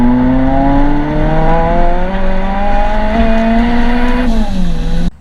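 A K-swapped Mini Cooper accelerates hard on a test drive, its loud engine note climbing steadily through the revs before a shift drops the pitch, then cutting off at the end.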